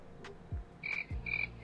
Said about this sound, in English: Ah, there's the crickets I so love.